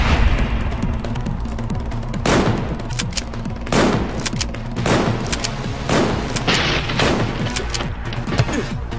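Video game gunfire from Final Fantasy X-2: dense, loud volleys of rapid shots and booming blasts repeat every second or so over a constant rumbling bed of battle noise, with no talking.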